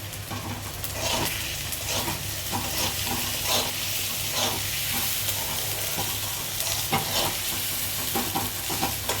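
Tomatoes and onions fry with cumin in a pan, a continuous close sizzle broken by repeated stirring scrapes and spoon knocks, with no talking.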